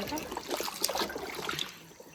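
Freshly cut pieces are dunked into water, producing brief close splashes and trickles over a few seconds, with a voice faintly in the background.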